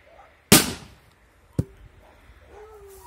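A sharp firecracker bang bursts loudly under a pot, followed a second later by a smaller crack, with quiet in between and after.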